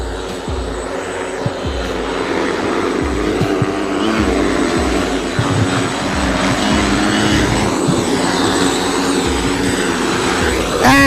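A flying taxi aircraft powered by motors comes in to land, producing a loud, steady propeller-like drone with a continuous high whine that holds throughout without fading.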